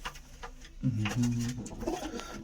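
Pigeons coo softly nearby in a few low, throaty bursts, with faint background noise and no speech.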